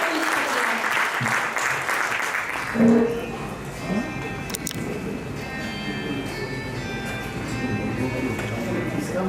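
A poetry gathering audience breaks into applause, a broad wash of clapping that starts strong, fades slightly, then continues under a noisy hall ambience with a voice coming through.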